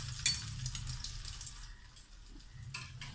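Bread-crumb-coated cutlets frying in hot coconut oil in a pan give a steady, soft sizzle with a brief sharper crackle near the start, heard close and alone.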